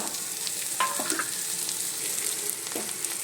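Field beans frying with onion and curry leaves in a pan, a steady close sizzle broken by a few scraping stirs.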